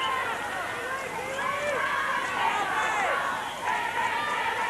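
New Zealand fans in the crowd at the 1987 netball World Cup final against Australia, a loud continuous roar of cheering and chanting that swells and dips under a commentator's voice.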